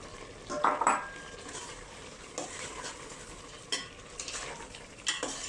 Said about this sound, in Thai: คนให้มาอยู่ข้างล่าง